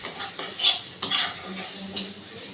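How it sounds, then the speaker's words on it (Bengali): A spoon stirs spices with Kashmiri chilli powder in a pan for katla fish curry. A few quick scrapes and clinks sit over a faint sizzle, brief and close, with no speech. "ভালো করে মিক্সড করে মিশিয়ে নিচ্ছি।"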